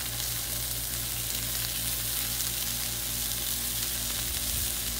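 Ghee sizzles steadily on a hot griddle beside tri-tip steak, a loud, dense, continuous frying hiss that holds constant from start to finish with no voices over it.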